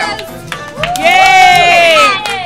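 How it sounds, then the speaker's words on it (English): A birthday party crowd at a Chuck E. Cheese cheers loudly, with a bright, rising high-pitched voice carried over the babble and a few sharp claps near the start. "Can you guys give Tegan another big round of applause?"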